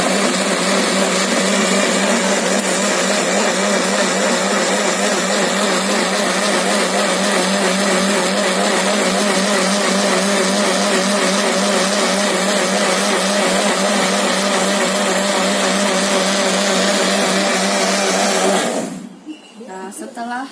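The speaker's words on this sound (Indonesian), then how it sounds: "Kemudian lakukan penghalusan, yaitu dengan menggunakan blender." An electric blender grinding plant-based pesticide ingredients for chili plants with water, running as a loud, steady, continuous whir for most of the clip before abruptly shutting off near the end.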